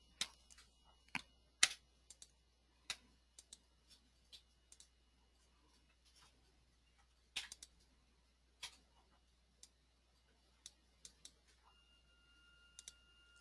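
Irregular light clicks of a computer keyboard being typed on, short scattered taps with pauses between, faint and close in an otherwise quiet room.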